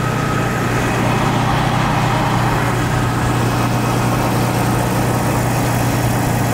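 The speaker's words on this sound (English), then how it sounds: "There's a front-mounted pump on an old Willis Jeep." An old Willys Jeep fire engine with a front-mounted pump runs in a firefighter games parade, its engine a steady, loud, low drone with continuous rumble and no talk.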